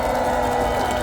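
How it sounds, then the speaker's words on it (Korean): A large crowd of supporters at an open-air presidential campaign rally in Seoul Station Plaza, Seoul, clapping and cheering in a dense, steady wash of applause. "박수 한번 치겠습니다"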